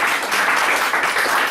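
Audience applause acclaiming the prophet at a church service, a dense steady wash of clapping filling the whole moment without pause.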